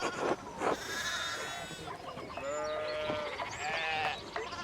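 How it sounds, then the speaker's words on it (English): Sheep in the Pentiment video game bleat several times in quavering calls, fairly faint and set against quiet game ambience. "We need to get the sheep under control."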